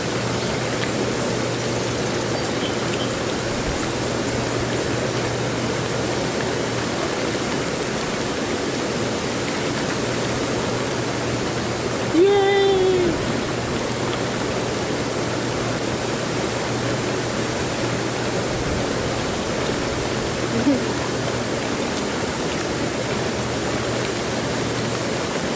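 Hot tub water bubbling and churning in a steady, even wash of noise close by, with a low jet hum underneath and a brief splash near the middle; no voices.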